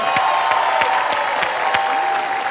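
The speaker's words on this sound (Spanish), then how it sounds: "Voy a pedir el aplauso para Ninel Conde." A television studio audience claps steadily and loudly, a sustained burst of applause with rapid overlapping claps and no speech over it.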